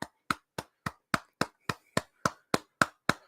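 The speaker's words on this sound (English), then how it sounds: "Round of applause." A round of applause from a single person: twelve crisp, evenly spaced hand claps, close and clear, with silence between each.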